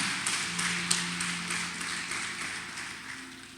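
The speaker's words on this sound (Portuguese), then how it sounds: "Dê um aplauso a Jesus, porque Ele é bom." Applause from a church congregation during a sermon: dense, sustained clapping spread across the room at moderate level, with a faint held tone from a voice or instrument underneath.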